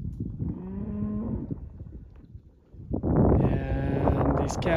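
Cattle moo at a canyon rim in Johns Canyon, one long harmonic low followed after a short lull by a louder, drawn-out bellow, close and carrying over quiet open air.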